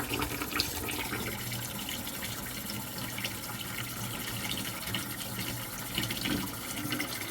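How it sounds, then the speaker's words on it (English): Cold tap water runs gently into a pot of boiled eggs, giving a steady splashing, gurgling flow at close range that continues unbroken with no speech. "just let the cold water run in nice and easy at first"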